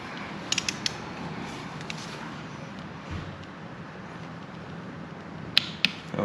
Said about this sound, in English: Let me run the torque wrench.